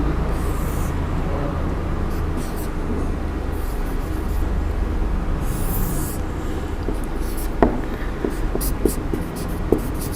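Chalk or marker writing on a board during a grammar lesson, a long run of soft scratchy strokes over steady room noise, with a few sharper taps near the end and no speech.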